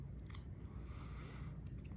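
Close, steady chewing and biting of Carolina Reaper dark chocolate bark, with a few crisp crunches over about two seconds of continuous mastication and no talking.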